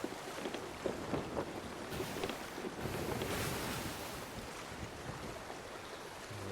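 A sailing ship cruising over ocean waves in Sea of Thieves, with a steady rushing wash of surf and wind that swells and eases continuously, with no voices.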